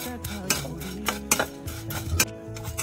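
Maggi noodles stirred in a pan over a high gas flame: a utensil scrapes and clinks against the metal in uneven strokes, close up, with a light sizzle underneath and no talking.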